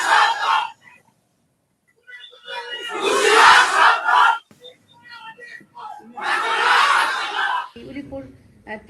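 A crowd chants slogans against a Hindu deputy commissioner, with two long, loud bursts of massed shouting separated by quieter gaps of scattered voices.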